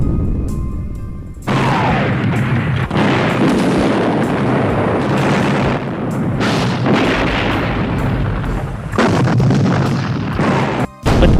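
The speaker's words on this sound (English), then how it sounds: "the whole of the enemy's guns, from the tanks in the front along the whole sweep of the curving line, opened heavy and continuous fire" Heavy, continuous cannon artillery fire at the Battle of Plassey in 1757, a loud sustained rumble of booms and blasts filling the whole clip with almost no pauses.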